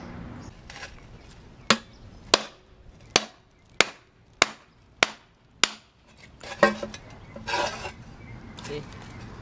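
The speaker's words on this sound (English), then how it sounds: "And I'm going to hammer this" A hammer strikes a wheel bearing on a Honda Element or CR-V: seven loud, evenly spaced metallic blows ring out close by, followed by softer clattering and shuffling of parts.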